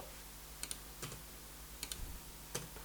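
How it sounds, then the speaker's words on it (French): Computer keyboard keys tapped to move through a file browser, a few sparse, quiet clicks in small clusters separated by pauses, with low hum in the background. "je suis obligé de m'amuser un petit peu avec le clavier pour pouvoir naviguer dans le navigateur de fichiers"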